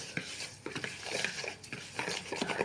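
A spoon stirs sugar into a wheat flour mixture in a bowl, giving repeated soft scraping and clinking strokes with small irregular taps, close and steady with no talking.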